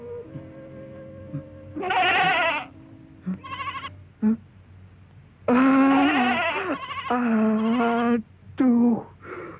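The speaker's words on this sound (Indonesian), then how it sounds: "kambing-kambing ini bikin kotor mobil baruku" Several goats bleat loudly and close by in a car, a run of wavering, nasal calls, some short and some drawn out, overlapping at times, against a low hum in the background.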